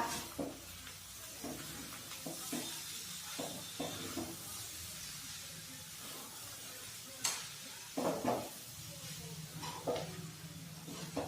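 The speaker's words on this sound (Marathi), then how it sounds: "आता पोहे आपण छान मिक्स करून देऊया" A spoon stirs and scrapes through poha in a sizzling kadhai, with soft frying hiss throughout and a few louder scrapes near the end.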